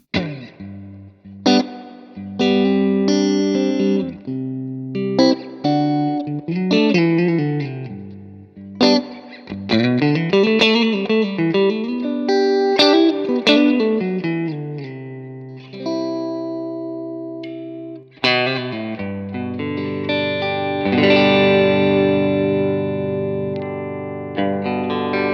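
Electric guitar clean tones through a VHT D-50 amplifier in the Dumble style, switched with a VHT footswitch: picked single notes, bends and ringing chords with lush chorus and reverb, played alone and close.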